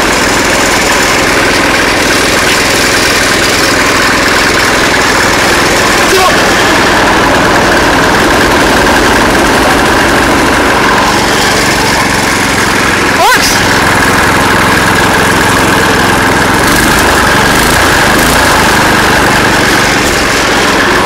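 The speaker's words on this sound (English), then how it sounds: "Probably help if I turn on the engine." A homemade go-kart engine with a homemade belt drive, choked and started for its first run, runs loud and steady at idle with a rough, uneven throb, and people talk over it.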